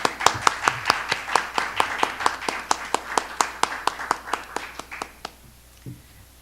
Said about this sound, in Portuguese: eu passo a palavra a Márcia Maria, pedindo palmas antecipadas à nossa conferencista.